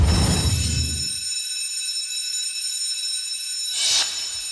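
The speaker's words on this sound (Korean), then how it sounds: "만약 내가 자고 있을 때 화재 경보가 울리면" A fire alarm rings during a civil defense safety training, a steady high-pitched electronic tone that holds loud and continuous, with brief noisy bursts at the start and near the end.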